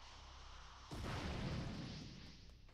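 A rocket explosion in the video game Dragon Ball The Breakers goes off as one sudden, full boom after a quiet lead-in, then rumbles and slowly fades away.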